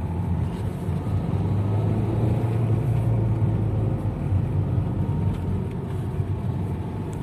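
A Nissan Terrano with a suspected faulty ECM drives along in second gear, giving a steady, loud low rumble of engine and road noise that holds without letup and has no talk over it.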